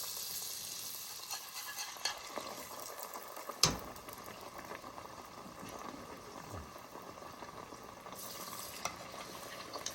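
Falafel frying in a frying pan, a steady broadband sizzle with soft stirring and scraping, one sharp clack near the middle, close and fairly quiet with no voices.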